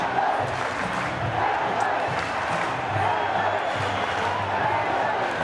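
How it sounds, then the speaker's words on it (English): A rugby league stadium crowd at an NRL match between Manly and Melbourne roars and chants, a dense distant wash of cheering with rhythmic shouted chant pulses throughout. "Listen to the crowd. They're loving this."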